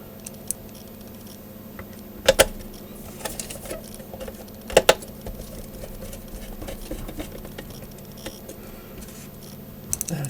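Three screws are fitted into the base of a Kenpro KR-800S rotator controller, giving a few sharp metallic clicks and taps over a quiet background, with small handling noises in between.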